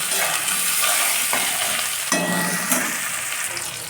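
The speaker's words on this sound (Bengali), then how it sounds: "একটা টমেটো কুচি করা হয়েছিল, টমেটোটা দিয়ে দেওয়া হলো" Chopped tomato goes into a frying pan of hot oil with garlic, raising a loud, continuous sizzle with a sharp surge as it hits, then settling under steady frying.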